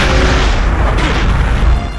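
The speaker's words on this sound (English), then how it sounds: "Ooh! Explosions!" A loud, deep grenade explosion in the video game Perfect Dark booms and rumbles continuously for about two seconds, its low roar filling the clip before easing slightly at the end.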